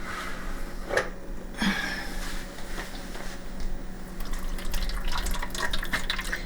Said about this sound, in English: I've got a pot of boiling water that I just boiled, and I'm putting it 3/4 of the way up the pan